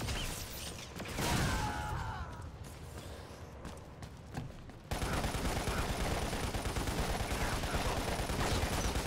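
Gunfire in the video game Lost Planet, scattered sharp shots and mechanical clatter at first, then a dense, continuous roar of rapid fire that fills the second half, fairly faint overall.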